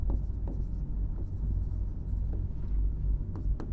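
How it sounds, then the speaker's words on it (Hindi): Handwriting on a board or paper during a recorded lesson, a soft continuous scratching of strokes with faint room rumble behind it and no talk over it. "काफ़ी दिनों बाद मैं लिख रहा हूँ"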